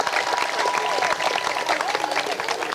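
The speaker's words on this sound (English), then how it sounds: "Let's clap it up for her again as well." Crowd applause at an outdoor statue unveiling ceremony honoring Dawn Staley in Columbia, a thick, lively burst of many hands clapping with some voices mixed in, steady and close.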